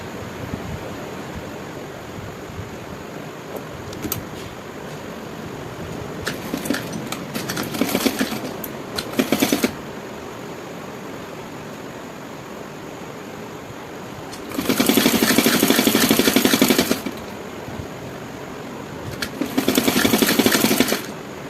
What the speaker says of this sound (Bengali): এখানে আমি সেলাই করে নিচ্ছি।